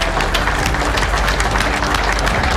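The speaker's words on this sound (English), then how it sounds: "we're gonna get a big clap going here" Audience applause at a golf tournament final, a dense, loud burst of clapping from a crowd that carries on steadily throughout with no talk over it.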